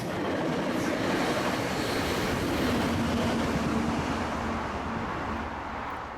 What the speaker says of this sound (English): My first train up here is southbound Coaster 628, powered by yet another Charger locomotive.